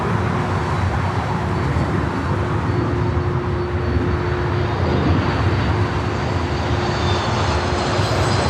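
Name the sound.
Alaska Airlines aircraft arriving at LAX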